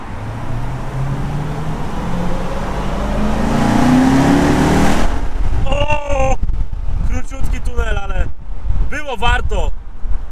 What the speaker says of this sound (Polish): Chociaż wy pewnie będziecie kompresor słyszeć.